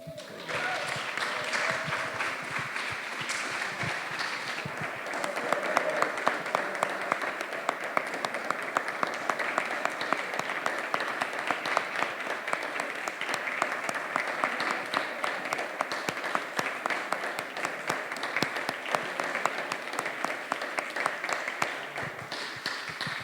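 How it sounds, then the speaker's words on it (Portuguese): Sustained applause from an audience at a political talk on legal disputes and hybrid warfare, dense and steady clapping throughout with some scattered voices underneath. "Muitos aplausos e toda a nossa expressão também de solidariedade ao Pisolato"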